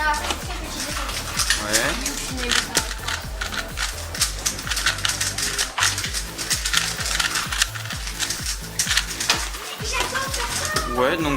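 A Rubik's speedcube, a competition cube slightly smaller than a Yuxin, being scrambled by hand: a dense, steady run of quick plastic clicks and clacks close up, with a brief spoken word over it.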